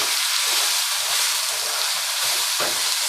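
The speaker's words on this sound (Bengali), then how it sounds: "একটু নেড়ে নিচ্ছি।" Turmeric-spiced mix frying in a pan with a steady loud sizzle, broken by the scrape of a spoon stirring it, with no voices.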